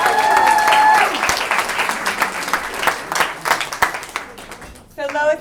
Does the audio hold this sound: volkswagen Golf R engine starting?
no